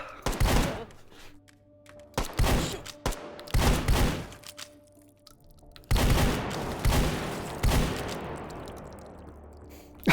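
Shotgun blasts in the video game H3VR, fired one shell at a time with a pump rack between: about six heavy, booming shots in an uneven rhythm, with thunking handling clatter between them.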